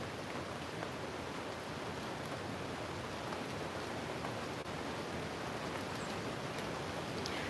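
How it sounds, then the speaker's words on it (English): A river rushing during heavy, non-stop rain on a Jamaican mountainside ahead of a hurricane: a steady, dense broadband roar of flowing water and rainfall, constant and unbroken throughout. "Can you hear the river?"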